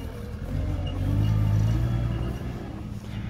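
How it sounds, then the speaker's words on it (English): Ex-military trucks idle at an outdoor military vehicle show, a steady low engine rumble that swells slightly midway, moderately loud and with no talking. "These trucks aren't as loud as I thought they would be."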